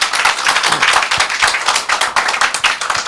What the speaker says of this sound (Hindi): जो यहाँ पे बैठे हैं एक बार प्रभु के लिए ताली बजा देंगे।